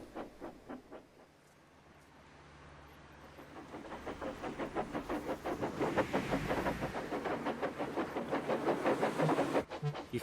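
Steam engine in a Roblox game, chuffing in a quickening rhythm of steam bursts over a steady hiss and rising as the train pulls away.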